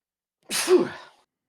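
One sharp, breathy sneeze, close and clear, bursting out and trailing off in under a second.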